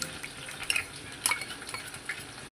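A spoon stirs tomato paste into a cooking pot, scraping and clinking against the metal in a few close strokes over a soft background sizzle, with no talking.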